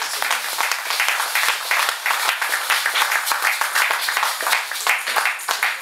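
A church congregation at an assembly service breaks into loud, sustained applause, dense clapping from many hands filling the space steadily with no break.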